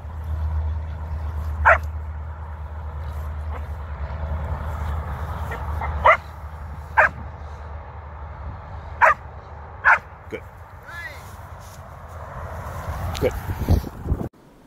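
A dog barking on the speak command during treat training: about six short, sharp single barks spaced a second or more apart, fairly close, with a person talking in between and a low steady hum underneath.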